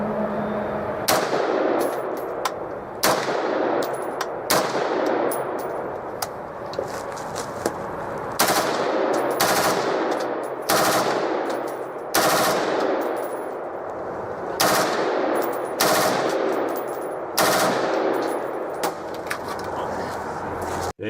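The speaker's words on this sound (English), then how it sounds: "Start out with a couple single shots and then run full auto." An M16 rifle fires outdoors, opening with a couple of single shots before running full auto: loud, sharp repeated bursts separated by short pauses, each ringing off with a brief echo.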